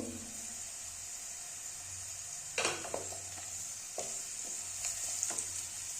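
Potatoes fry in a pan for a vegetarian bitter gourd dish, a faint steady sizzle with occasional spoon scrapes and light clinks against the pan.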